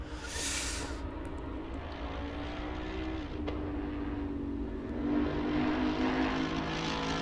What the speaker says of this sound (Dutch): Weer datzelfde mooie, ronkende geluid, dat donkere, diepe V8.